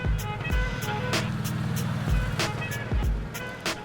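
An Arctic Cat Wildcat off-road side-by-side drives over rough terrain, its engine rumbling steadily up close with repeated bumps and knocks as it crosses uneven ground.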